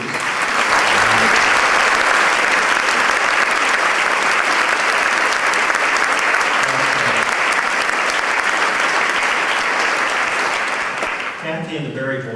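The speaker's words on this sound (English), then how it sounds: "stand and stay standing so they can receive some applause from you" An audience at a fundraiser dinner breaks into sustained applause, a dense, loud wash of clapping that holds steady for about eleven seconds before tapering off as a voice begins to speak.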